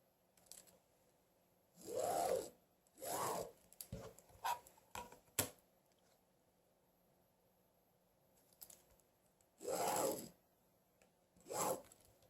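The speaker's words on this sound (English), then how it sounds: "Then we're going to draw lines from corner to corner." Marker lines drawn corner to corner across a white piece of fabric for pinwheel quilt blocks, heard as several separate scratchy strokes a few seconds apart, close and fairly quiet, with short rubbing sounds between them.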